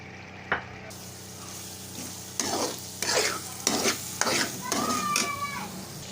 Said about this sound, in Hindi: तो देखें हमारा मसाला फ्राई हो चुका है, ऑयल अलग होना शुरू हो गया है